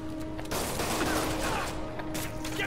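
Gunfire in the Marvel's Spider-Man video game, a steady crackle of rapid shots that runs dense and loud from start to finish, over a constant game hum with no clear talk.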